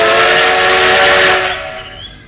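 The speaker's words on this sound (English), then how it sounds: "First, a blow of the whistle." A locomotive's whistle gives one loud, sustained blast with a rich, steady tone. It fades and trails off after about a second and a half.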